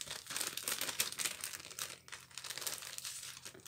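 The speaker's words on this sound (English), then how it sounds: "Yes, Keanu, you can play with the tissue paper, honey." Cat playing in tissue paper, producing steady close crinkling and rustling with bursts of sharper crackles, continuous and fairly faint, with no talking.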